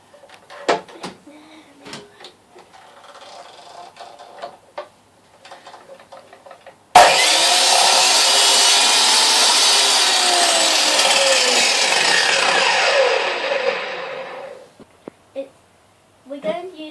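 A power saw cuts through scrap plywood in one loud, sustained burst of about seven seconds, starting abruptly and then winding down, with quiet tapping and brief speech before and after.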